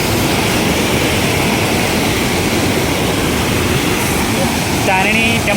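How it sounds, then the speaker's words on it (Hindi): Bhimkund waterfall in Keonjhar district roars as a steady, dense wash of rushing water that fills the whole clip without pause, with a brief voice rising faintly near the end. "देखो ये भीमकुंड वाटरफॉल बहुत बढ़िया जगह"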